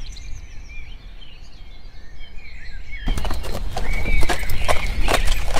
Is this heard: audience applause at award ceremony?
no